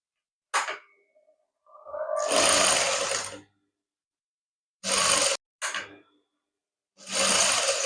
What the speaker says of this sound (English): begin to sew on top of this your sewing allowance here